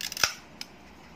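Film advance lever on a 35mm SLR camera pulled back once, giving a short, crisp mechanical ratchet click followed by a fainter second click, close and alone in a quiet room.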